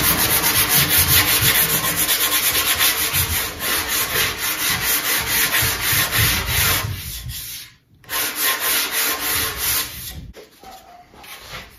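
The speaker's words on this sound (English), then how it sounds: "Just take a sanding block and some sandpaper." Wood plugs hand-sanded with a sanding block and sandpaper, giving steady, close rhythmic rubbing strokes throughout, with a brief pause near the end before the scraping resumes.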